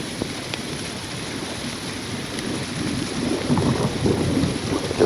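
Steady rumble of a severe thunderstorm with rain hiss at Atlanta Hartsfield-Jackson Airport, low rolling thunder swelling toward the end, no voices.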